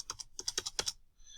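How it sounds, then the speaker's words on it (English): Commands typed on a computer keyboard while coding a text-based game in Python: a quick run of close, crisp keystrokes in small bursts, then a second or so of near quiet. "when I'm typing in these commands here"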